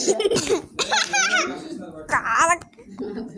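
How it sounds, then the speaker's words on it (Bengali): A child coughs in short bursts, interleaved with children's chatter and babbling at close range. "কাশি হয়েছে তোর তুই কি তুই কি সারাদিন কেসে যাবি"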